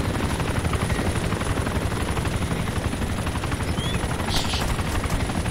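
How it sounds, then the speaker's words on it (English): Military helicopter flying in ARMA 2, British Armed Forces, a loud steady rotor thump and turbine drone held close throughout, with no voices. "This is the benefit of the heli."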